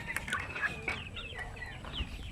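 Newly hatched Shamo Aseel chicks chirp and peep in a brooder, a steady stream of close, high twittering calls with no voices.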